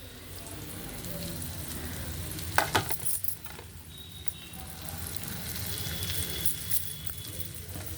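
Spices such as turmeric, chilli powder and garam masala go into food already frying in a pan, giving a steady sizzle with a brief louder burst of crackling and stirring near the middle, no clear speech.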